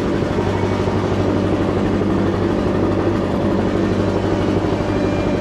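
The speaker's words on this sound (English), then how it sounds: "He's already started blowing all this leaves off." A handheld leaf blower clearing leaves off travertine pavers: a loud, unbroken engine roar with a constant droning hum, close by and steady from start to finish, with no talking.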